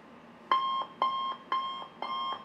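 An electronic alarm beeps in four evenly spaced bursts, each a steady high-pitched tone lasting about a quarter second, loud and close.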